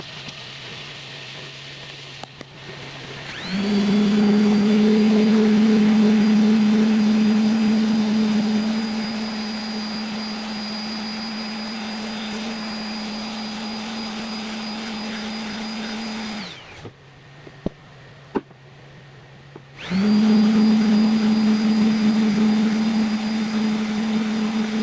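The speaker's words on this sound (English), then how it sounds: "watch me sand with the orbital sander" An orbital sander works a wooden cutting board with a steady electric hum and whir, switched on after a few seconds, running for about thirteen seconds, stopping briefly with a couple of faint knocks, then starting again.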